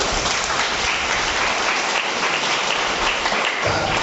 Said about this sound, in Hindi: बजाओ एक बार ताली।